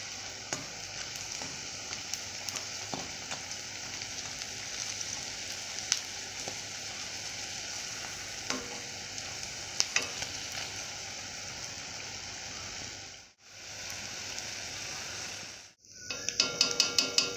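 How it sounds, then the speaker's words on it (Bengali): Battered flower pakoras frying in hot oil, a continuous dense sizzle with scattered pops and clicks, briefly dropping out twice near the end before louder crackles return; no one speaks. "এইভাবে উল্টিয়ে নিয়েছি, এই সাইডগুলো ভালো করে ভেজে নিতে হবে।"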